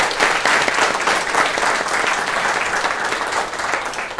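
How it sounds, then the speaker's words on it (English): Audience applause for monthly award winners at a recognition event for kids, a steady dense clapping crowd sustained throughout at fairly loud level, with no talk over it. "How about another round of applause for all of our monthly winners?"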